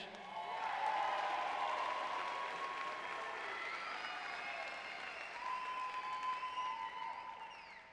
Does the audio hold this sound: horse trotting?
no